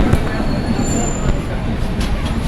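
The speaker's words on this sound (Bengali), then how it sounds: "দ্য জম্মু তাওয়াই এক্সপ্রেস, যা বর্ধমান জংশন রেল স্টেশন ছেড়ে শিয়ালদার দিকে যাচ্ছে" The Jammu Tawi Express rolls out of Bardhaman Junction station nearby with heavy rumbling, clanking wheels and a thin metallic squeal, continuous throughout.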